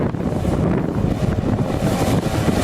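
A JetSurf motorized surfboard riding around on open water, heard as a steady rushing blend of wind buffeting, spray and waves with a low motor rumble underneath, continuous and fairly loud.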